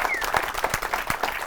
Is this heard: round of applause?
yes